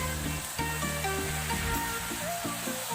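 Minced mutton sizzling in a pan for mutton kheema, a steady bright crackle and hiss throughout with a few soft scraping stirs.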